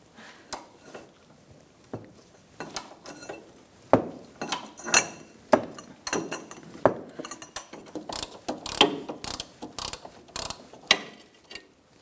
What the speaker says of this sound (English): I'm using a 14mm short socket and a ratchet